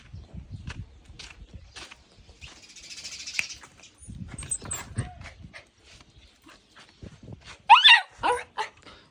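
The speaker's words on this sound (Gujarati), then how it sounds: "આપણું ડોગ." A pet dog at a home stable with a week-old foal gives scattered barks and yelps, fairly close, amid footsteps and light movement, with a sharper burst of higher-pitched cries near the end.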